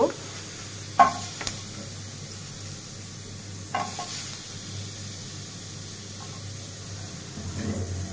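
Green chilies sizzle softly in hot oil in a home kitchen while making coriander-leaf bhorta, with faint stirring clatter and a few sharp clicks as onion and garlic are tipped into the pan.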